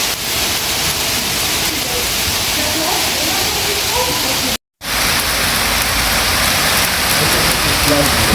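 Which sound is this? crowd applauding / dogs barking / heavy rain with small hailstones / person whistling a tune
heavy rain with small hailstones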